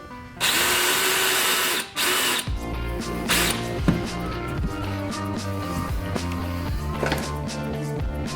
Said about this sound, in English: I've just finished up with drilling in the final 2 bolts in the wheel wells there